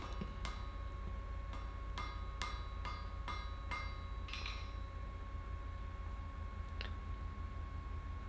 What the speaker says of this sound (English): At that stage, take a good welding heat and just weld it shut.